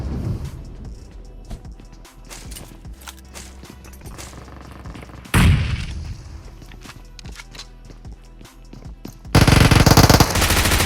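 Rapid bursts of gunfire in a solo third-person battle royale match, with quick automatic volleys and single shots spread through the fight, a louder close burst midway and a heavy sustained blast of fire at the end.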